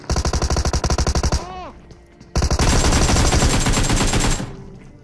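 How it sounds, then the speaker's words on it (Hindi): Video game gunfire coming from a house: a rapid automatic burst of evenly spaced shots, a short pause, then a second dense, sustained burst of fire, loud and close. "यहाँ पर ना ऑलरेडी फायरिंग हो रही थी इस वाले घर से"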